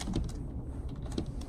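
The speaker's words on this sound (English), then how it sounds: "Over here typing away." Typing on a computer keyboard at school, soft clustered key clicks in two short bursts, close and fairly quiet with room noise behind.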